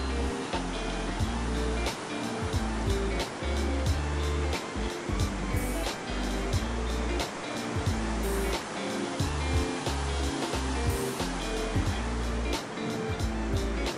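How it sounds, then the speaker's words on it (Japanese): Surf rolls in steadily along Chirihama beach, a sandy Japanese shoreline where cars can drive, with broad continuous wash and roar, buffeted by loud wind gusts and occasional knocks, close and fairly loud with no talking. "ここは全国的にも有名な車が走れる海岸、"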